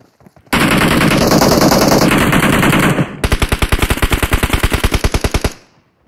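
Loud, close machine gun fire from a game: a dense continuous burst at first, then a rapid rhythmic string of distinct shots before it cuts off, with no voices over it.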